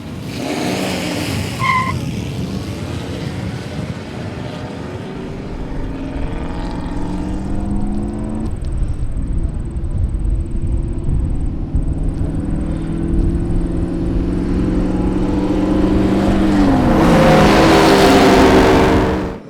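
Vintage Duesenberg race cars roar past at an exhibition of speed, with engine drones rising in pitch and tires skidding and squealing, loud and close near the end.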